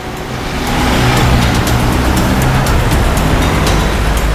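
A car drives along at a steady pace while tailing a tempo, its road rumble and engine noise forming a continuous, fairly loud broadband wash with no voices.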